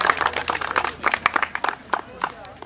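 Brief, fairly close clapping from a small crowd at a race awards ceremony honours the winner. An announcer talks over it the whole time.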